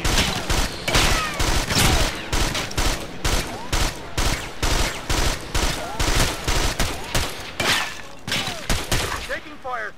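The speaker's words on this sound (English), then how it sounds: "Taking fire. I'm hit." Gunfire in Ghost Recon Advanced Warfighter, a tactical shooter game: rapid, loud bursts of shots in a steady rhythm, repeating throughout with short gaps, with brief voices mixed in.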